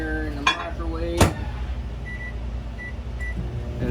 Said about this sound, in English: I'm gonna pop this right here in the microwave